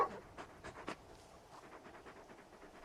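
Torgal, the dog companion in Final Fantasy XVI, pants quietly with a few soft breathy bursts near the start, faint and close, over a low background hum.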